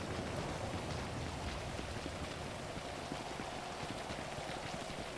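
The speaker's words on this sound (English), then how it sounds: "Calming rain sound for Gfred, yeah, it's quite nice. There's kind of like hints of thunder in the background" Steady hiss of rain in a racing video game, a dense, even wash of drops at low volume with no clear thunder and no voices.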